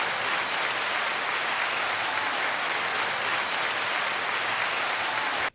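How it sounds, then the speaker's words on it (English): Dense, loud applause from a crowd fills the whole stretch at a steady level, then cuts off abruptly at the very end. "9-second applause"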